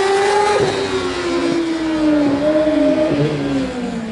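Student formula race car in a 2013 intercollegiate endurance event, its engine droning loudly and continuously as it passes, pitch sliding gradually down with small revving wobbles, heard close and dominant with no talk.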